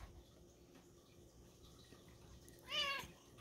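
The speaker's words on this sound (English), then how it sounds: "my cat's very excited" A house cat gives one short, fairly faint meow toward the end of an otherwise quiet indoor moment.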